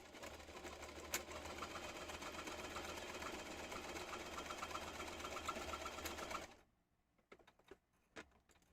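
A sewing machine runs fast and steady, its needle chattering loud and close for about six seconds before stopping abruptly, leaving a few faint clicks and handling noises.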